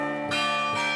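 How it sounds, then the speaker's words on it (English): A tolling bell-tower sample from the Lumina sound library rings twice, each strike a bright metallic clang with long, rich, sustained overtones, loud and close with no voices. "one at my actual favorites, the bell tower from Lumina."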